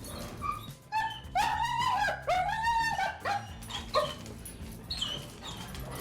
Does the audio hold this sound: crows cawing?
no